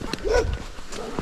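Dogs barking behind fences along a winter hiking trail across Gran Canaria, several mid-distance barks and yips under ongoing chatter and breathing of a walker outdoors.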